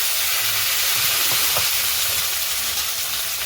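Ground ginger and cumin paste hitting hot white oil with whole cardamom, cinnamon, dried chilli and garam masala, a loud continuous hiss of spattering oil with faint stirring knocks underneath.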